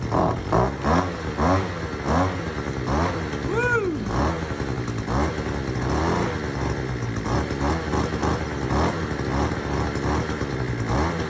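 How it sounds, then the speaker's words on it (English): A small garden machine engine runs with its blade spinning on an overgrown allotment plot, giving a steady, loud mechanical drone with rhythmic pulsing throughout, and a brief rising whine partway through. "I've managed to get one of these engines started. Right, blade seems to be spinning."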